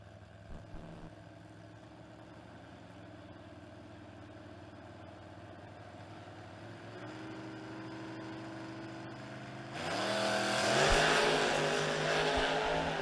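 Drag racing cars, including a '65 Chevelle, at the Spring King of the Creek event: a steady deep engine rumble builds gradually, then swells into louder, harsher revving over the final seconds, with no talk.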